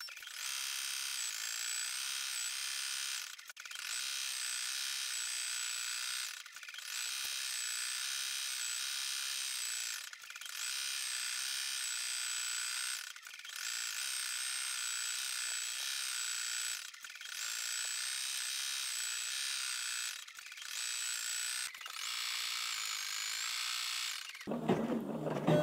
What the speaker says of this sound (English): So I can tell it to start, put my presser foot down and start stitching again.